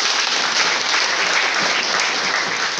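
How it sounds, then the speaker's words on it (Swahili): A church congregation at a women's seminar applauds, loud dense clapping that continues steadily throughout, with no voice over it. "Naomba tumpigie makofi."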